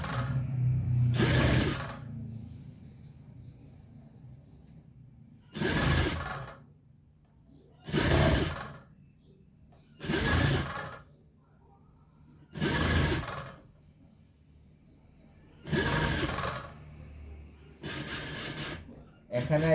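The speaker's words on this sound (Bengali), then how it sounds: "ঠিক একইভাবে এক চাপের ধরে পুরাটা সেলাই আসবেন।" Sewing machine stitching an Arabian-design burqa, running in seven short bursts of rapid mechanical whirring, each a second or so long and separated by quiet pauses, heard close and loud.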